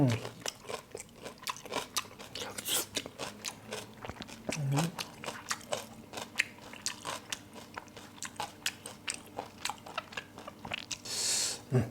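Someone bites and chews grilled pork intestines up close, with repeated crunchy, wet bites in an uneven rhythm and occasional talk between mouthfuls.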